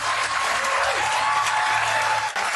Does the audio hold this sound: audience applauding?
yes